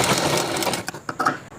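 A sewing machine stitches the neck piece of a chudidhar top, running in a close, steady whir that breaks into a few short bursts as it stops and restarts. No one speaks.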